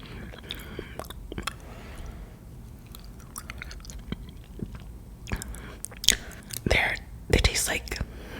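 Soft, close, wet chewing of attap palm seeds in heavy syrup is heard in a quiet ASMR eating setting. Squishes and smacks come in irregular bursts, mixed with faint whispering.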